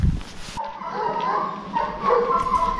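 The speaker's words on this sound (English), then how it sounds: "Looks like there's some dogs afoot." Dogs bark and yip in a Kosovo street, several sharp calls after a brief thump, with a whimpering, strained quality and faint background noise.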